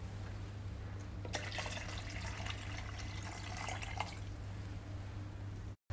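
Water pours and trickles into a cryolipolysis slimming machine under a steady low hum, then stops abruptly at the end.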